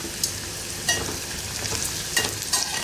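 Onion cooks in a pan with a steady, close sizzle, broken by a few brief stirring scrapes and clinks over about three seconds, with no talk.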